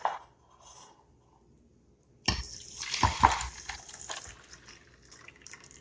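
Homemade garden bug spray pours into a pot, a faint splashing trickle starting after a quiet moment and then tapering into drips, with no talk.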